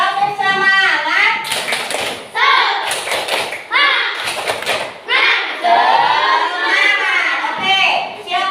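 A classroom group claps in rhythmic bursts during a coding and artificial intelligence lesson, the claps mixed with loud chanting voices, children among them.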